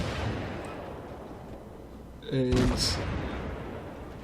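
Main guns of a Japanese tier 1 cruiser firing in World of Warships, a single booming salvo midway through with a brief voice underneath and low background game noise.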